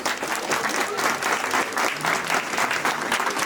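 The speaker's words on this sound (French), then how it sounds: "on peut les applaudir encore une fois." Student audience applauding at a university talent competition, a short burst of dense clapping from a crowd with some cheering voices mixed in, steady and close for a few seconds.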